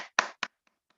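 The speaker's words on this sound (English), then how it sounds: "I want to applaud." Applause during an online chapter meeting, heard as a couple of sharp, close hand claps followed by two faint, trailing ones, clipped and thin as if through a call connection.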